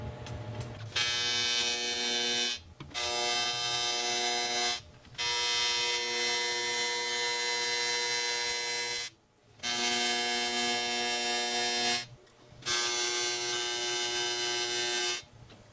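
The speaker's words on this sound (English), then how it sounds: "We're going to weld the inside of the tank, which would be on the pump side." Welding inside a custom aluminum hydraulic tank on the pump side, with a steady buzzing arc in several sustained bursts separated by short pauses, loud and close, with no talk.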